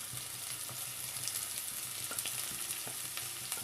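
Sliced onion, green chili and crushed garlic sauté in a pan for chana masala. A soft, steady sizzle runs throughout, broken by light scraping stirs, with no voices.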